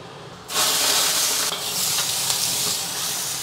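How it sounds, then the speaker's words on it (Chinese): Pork intestines thrown into a hot wok for stir-frying, a sudden loud burst of hissing sizzle after a quiet start, then sustained crackling with a couple of stirring scrapes. "先把肥肠给它煸一下，一定要给它煸香"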